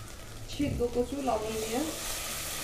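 Boiled taro going into a hot pan with mustard, a soft steady sizzle of frying under a person's speech throughout.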